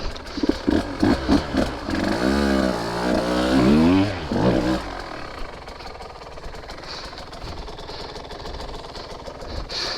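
A 2023 Husqvarna TE150 two-stroke dirt bike crosses a tricky stream section on single track, its engine revving and bogging in a rising, wavering drone that lugs in too high a gear, then drops to a low idle.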